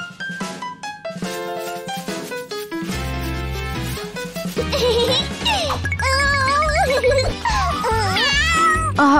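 A cartoon kitten meows in bright, high, wavering cries over a cheerful musical score, its calls growing louder and more insistent toward the end.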